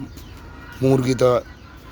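Two short bursts of chicken clucking close by, over a low background murmur.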